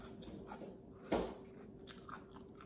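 One crisp bite into cucumber with peanut butter, a close, sharp crunch followed by faint soft chewing in a quiet room.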